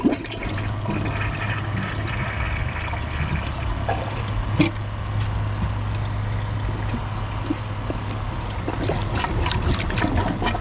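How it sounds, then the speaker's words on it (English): A second flush of a toilet in a flush comparison between a Champion 4 and a Kohler Class 5, a loud rushing swirl of water with a low hum, gurgles and trickling refill near the end. "After the tank is full, I'm gonna give it a second flush."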